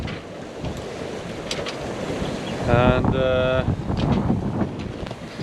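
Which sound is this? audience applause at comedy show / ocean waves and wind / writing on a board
ocean waves and wind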